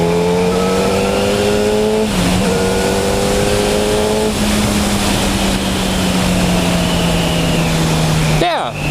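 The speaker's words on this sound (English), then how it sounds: "4-cylinder sport bike engine, so it's probably much higher in the RPM range" Yamaha FZ1 four-cylinder sport bike engine revs hard through climbing gears, a loud sustained high-pitched whine rising in pitch with shifts, close and steady, ending with a brief burst of wind or handling noise.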